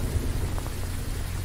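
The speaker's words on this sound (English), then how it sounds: "What a rain." Rain and thunder in the video game Phasmophobia: a steady, dense hiss of rainfall over a deep, continuous thunder rumble, loud and unbroken, with no voices.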